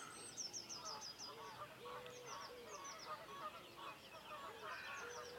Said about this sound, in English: You can see that goose out the back there